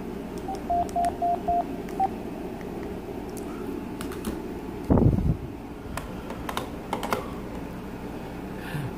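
Several short electronic key beeps come from an AT&T CL82301 DECT 6.0 cordless phone handset as the intercom feature is tested, a quick run of evenly spaced tones followed by one more beep, then a louder burst and faint clicks.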